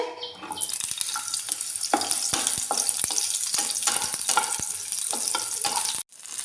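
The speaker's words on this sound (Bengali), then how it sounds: "এবার আমি ভেজে নেব উচ্ছে।" Bitter gourd frying in hot oil in a pan, a bright continuous sizzle broken by frequent spatula scrapes and taps against the metal, ending in a brief abrupt pause.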